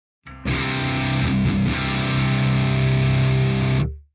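A loud, sustained distorted electric guitar chord with heavy, boomy low end rings out for about three and a half seconds, then cuts off.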